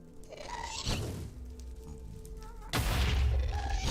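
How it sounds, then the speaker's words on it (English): Explosions in a modded Minecraft game, with two loud booming bursts, one near the start and a larger, sustained blast in the second half, over game background sound. "I got a little distracted watching the explosions."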